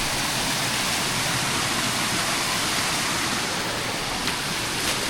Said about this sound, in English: What a lovely waterfall.